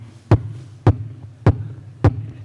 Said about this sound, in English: where the heart is beating.